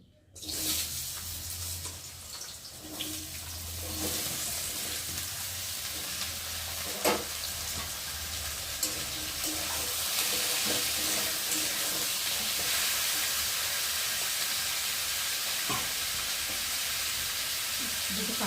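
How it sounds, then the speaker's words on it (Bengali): Potatoes frying in hot oil in a kadai, a dense continuous sizzle that grows slightly louder, with occasional clinks and stirring sounds. "এখন কড়াতে তেল দিয়েছি এখন আলুগুলো ভেজে নেব চলো এখন আমি তেলের ওপরে আলুগুলোকে দেবো"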